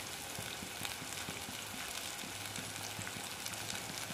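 Country chicken curry frying in a pan, a steady dense sizzle with faint crackles and a low hum underneath, moderately loud and close, with no voices.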